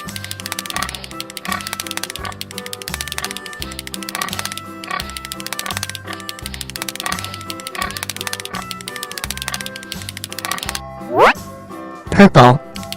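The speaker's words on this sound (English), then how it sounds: "Pig." A cartoon pig oinks in short repeated bursts over a bouncy rhythmic nursery-rhyme backing track, ending with a couple of louder squeals.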